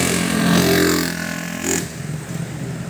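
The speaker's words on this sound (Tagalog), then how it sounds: "Mga humaharurot na mga motor" Motorcycles roar past on an evening road, a loud engine swell rising and fading as one rider passes close, followed by a lower rumble of traffic continuing.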